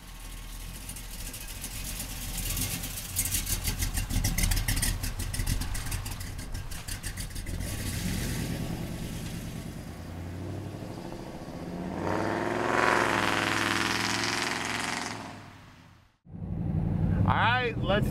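A 1970 Chevrolet Chevelle with an LS6 Corvette LS engine runs with a steady, fairly loud rumble under much talking, its pitch rising and swelling later before a short near-silent break and a restart of sound.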